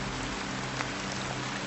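Steady heavy rain pours down on a deserted island, a dense continuous hiss close around with no voices.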